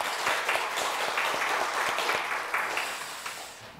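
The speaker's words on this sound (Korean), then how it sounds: "박수하겠습니다." A church congregation claps together during a Sunday service, a short burst of moderately faint, steady applause that tapers off toward the end.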